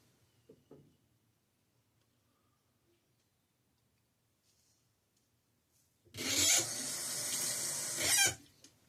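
A water tap runs for about two seconds to wet a Williams mug shaving soap, a loud steady splashing gush that starts abruptly after quiet and cuts off, preceded by a few faint taps and knocks.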